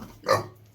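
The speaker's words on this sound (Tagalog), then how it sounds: "Ito na po yung baboy natin guys" A farm pig lets out a single short, rough grunt at moderate volume, close by and alone, with faint background noise before and after.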